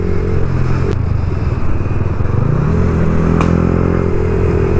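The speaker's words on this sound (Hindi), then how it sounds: "चलती गाड़ी में से पटाखे निकल रहे, पटाखे" A steady motorcycle engine rumbles close by while riding, broken by a couple of sharp, crackling backfire pops from the exhaust.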